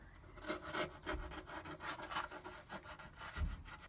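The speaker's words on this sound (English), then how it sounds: "Just going to run a Stanley knife around the edge." A Stanley knife scores around a masked edge during car ECU panel and bulkhead repair on an XR2i, a close, rasping scrape repeating in short strokes with no talk.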